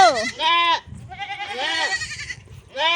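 Several goats bleat loudly and close by on a farm where kids are being born, harmonic cries coming in overlapping bursts with short pauses and a low rustle between them.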